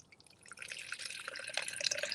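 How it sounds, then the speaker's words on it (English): A small cup is filled with about 4 to 5 ounces of water for a food mix, a soft, continuous pouring trickle that swells slightly as it goes on, close by and with no voices. "So you're gonna put"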